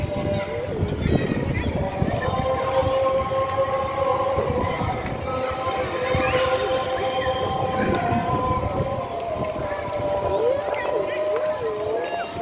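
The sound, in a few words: train passing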